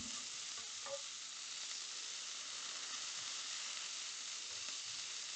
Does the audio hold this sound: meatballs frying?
yes